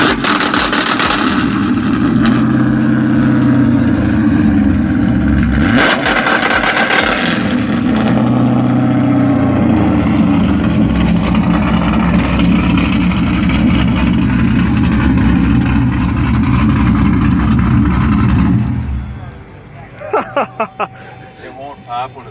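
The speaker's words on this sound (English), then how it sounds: "2-step is Cadillac CTS-V here. You're gonna 2-step it." A Cadillac CTS-V at a car show holding revs on two-step launch control, a loud, steady, raspy engine drone for most of the clip before cutting off into a few sharp pops, with people talking nearby.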